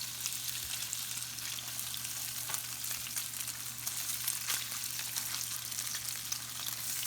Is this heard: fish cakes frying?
yes